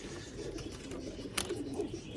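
Mian Nazir bloodline pigeons on a rooftop loft in Sialkot give soft, low cooing, faint and somewhat distant, with one sharp brief click partway through.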